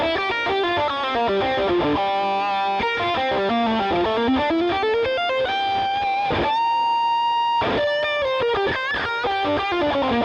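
Heavily distorted electric guitar plays loud, saturated chords and riffs through a modeled Vox AC30 amp on a Fractal Axe-FX at its highest gain setting, with a sustained ringing note midway.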